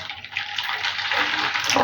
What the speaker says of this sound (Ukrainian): гарячою цією водою, кип'ятком пролью ґрунт, щоб він був вологенький